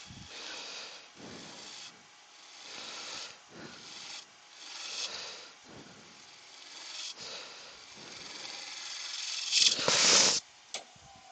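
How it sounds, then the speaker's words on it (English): A negative rake scraper works wood spinning on a lathe, producing repeated scraping passes, close and moderately loud rasping strokes with short pauses between them and a sharper burst near the end. "Just use the negative rake scraper if you get it the right way around, Stephen."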